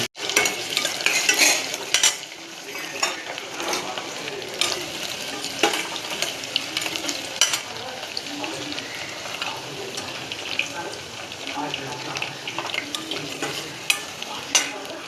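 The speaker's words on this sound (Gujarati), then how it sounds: "તો બ્રાઉન થાય ત્યાં સુધી આપણે આને ફ્રાય કરશું એકદમ બટેટાને." Potatoes frying in hot oil in a pan at home, a steady loud sizzle with repeated scrapes and clinks of a utensil stirring against the pan throughout.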